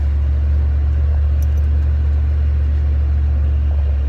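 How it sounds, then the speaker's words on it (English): A steady, loud low rumble from inside a pickup truck cruising along a road on the drive home from a bass fishing trip, with a boat in tow. The drone holds constant and no one speaks. "Back in the truck, recovering my boat on the way home."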